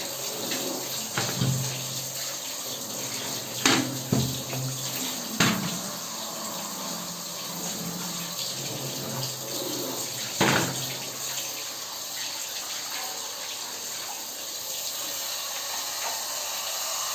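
Water runs continuously as a toilet bowl is rinsed from top to bottom during cleaning, with a steady splashing flow broken by a few sharp knocks and clatters and no talk.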